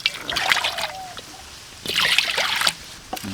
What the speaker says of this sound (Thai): กระทาลงเตาแล้วครับผม น้ำตามลงไปนะครับ